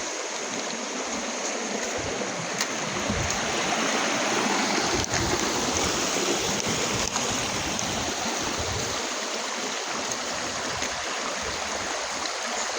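Clear mountain stream flowing through a forest, a steady, full rush of water over rocks close by, continuous and even throughout with no voices.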